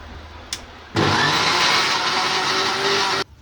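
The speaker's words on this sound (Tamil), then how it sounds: "அடுத்து இப்போ நம்ம அரைச்சிட்டு வந்துடுவோம்." A kitchen blender grinds apple milkshake with a loud, steady whirring roar lasting about two seconds, preceded by a small click and cut off abruptly at the end.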